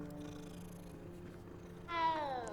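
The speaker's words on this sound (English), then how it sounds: "Oh, and there's a cat. Found a nice little cat here." A small cat in Hogwarts Legacy purring softly and steadily, then giving a short meow that rises above the low, quiet purr near the end.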